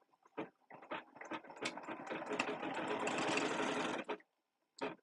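Embroidery machine stitching a zipper in the hoop, starting with a few short bursts and then running in a fast continuous rattling whir for about three seconds before stopping, close and alone.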